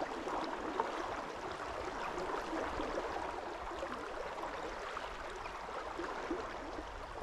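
A rushing river, the Tame in the UK, pours past in a steady, dense roar of flowing water, close and unbroken throughout, with no voices.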